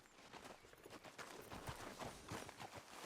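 Horse hooves clip-clop in quick, even steps while riding in Red Dead Redemption 2, a faint, steady trotting rhythm heard at a distance with no talk over it.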